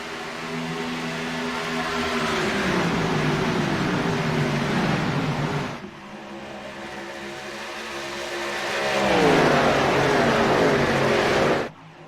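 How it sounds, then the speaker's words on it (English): Race cars in a NextGen K&N Series race at Michigan roar past continuously, engines loud and droning with pitch sweeping down as the pack passes, then a second wave builds and passes before cutting off. "Still a 4-car battle for your race lead"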